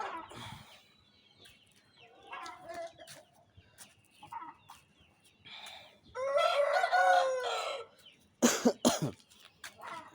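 An aseel rooster kept for breeding, with a slight cold, crows loudly and close up in a strained, harmonic call. Softer clucks and throaty sounds come before it, and sharp, coughing bursts follow near the end.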